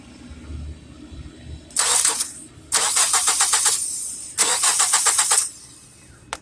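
A car starter motor cranks in three bursts, the first short and the next two longer with a rapid rhythmic chatter, loud and close, with quiet pauses between attempts to free the stuck starter with a jumper wire.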